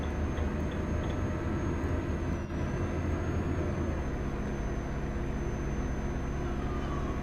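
Steady low truck engine drone from a heavy truck driven in Euro Truck Simulator 2, a continuous even rumble with a faint high whine, no talk over it.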